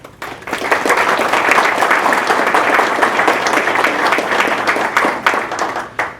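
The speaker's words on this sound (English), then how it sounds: "I'd like to give them a hand of applause." Audience applause at a Lafourche Parish School Board meeting, a dense, loud wash of many hands clapping that swells quickly and holds steady before thinning out at the end.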